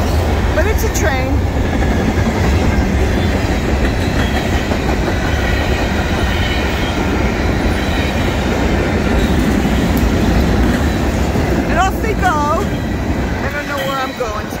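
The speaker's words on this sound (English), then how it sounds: "We got a short train." A short freight train rumbles past at close range, loud and continuous for the whole stretch, with clickety-clack wheel noise and occasional wheel squeals near the start and end.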